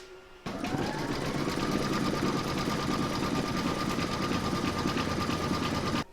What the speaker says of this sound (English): stitch round number 11, and that's going to secure the flap in place